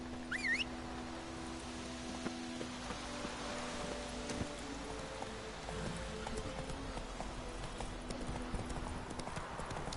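A horse runs in The Witcher 3 video game, its hooves clip-clopping in a faint, steady rhythm beneath quiet ambient game sound and a low hum.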